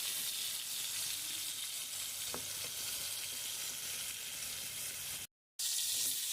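Pointed gourd and potato pieces sizzle steadily in hot oil, with occasional scrapes and clinks as they are stirred; a brief dropout near the end interrupts the continuous frying hiss.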